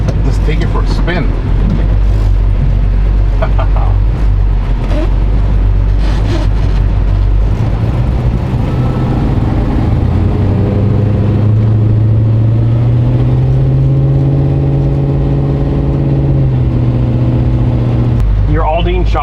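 A 1966 Chevelle's engine hums steadily while driving, a low drone that rises in pitch midway as the car pulls ahead, with voices talking over it.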